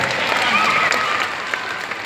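An audience claps in a brief, dense burst of applause, fairly loud and close, with some voices mixed in under the clapping.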